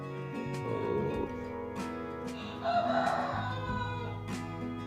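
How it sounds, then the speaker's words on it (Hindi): A rooster crows nearby in a couple of long, harmonic calls that rise over a steady background hum, loud and close with no talking. "मुर्गा बहुत तंग कर रहा है, आवाज़ें लगा रहा है।"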